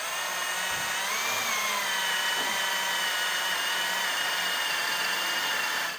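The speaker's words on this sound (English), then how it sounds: "we're going to start with the hole on the bottom here and just create a hole right through the bottom of our frame rail" A power drill bores a hole through the bottom of a 2024 Ram 1500 pickup's steel frame rail, a steady loud whine running for the whole stretch with a slight pitch shift as the bit cuts.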